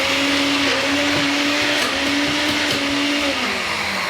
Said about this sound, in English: But when you use a blender or a hand blender